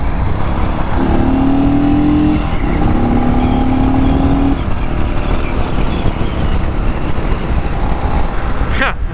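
A 2023 Indian FTR R Carbon motorcycle pulls hard under throttle, its loud engine roar rising in pitch through the gear, with heavy wind rush throughout.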